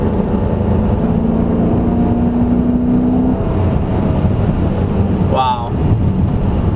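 A 2016 Dodge Charger R/T with a 5.7 liter Hemi pulls hard in third gear on a back road, a steady loud engine drone with rising tones and heavy wind and road roar throughout.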